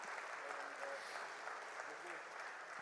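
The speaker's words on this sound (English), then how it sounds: "Can we hear a round of applause and a huge cheer for Mr." An audience at a poultry industry expo's knowledge day session applauds and cheers, a dense, steady wash of clapping held at an even level from start to finish.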